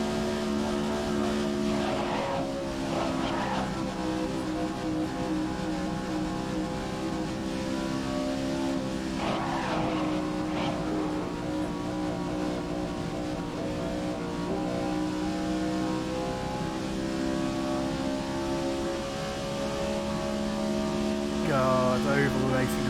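Race car engines droning steadily through an oval race in the video game GRID 2019, a constant loud drone with slight pitch shifts and a rev swell near the end, with talking over it.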